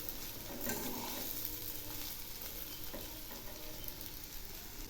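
Rice and lentils being stirred as they fry in a pan for Bengali bhuna khichuri, a steady close sizzle with scraping stirs running throughout, no talking.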